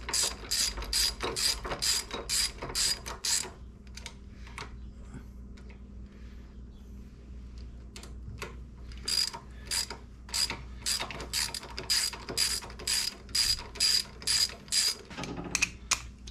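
A hand ratchet running bolts in on a Harley-Davidson Sportster, with rapid steady clicking in bursts, a pause of softer scattered clicks in the middle, then another long run of quick ratcheting close by.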